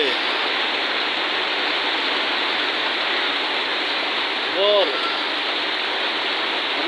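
Rain and stormy wind in Natore, Bangladesh, a steady loud broadband roar of rainfall and gusts that runs throughout, with a brief faint voice-like sound near the end.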